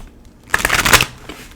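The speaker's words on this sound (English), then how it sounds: "I'll just keep shuffling until the cards are ready" Tarot cards riffled and shuffled by hand in a quick, close burst of papery flutters lasting about half a second, then fading into near quiet.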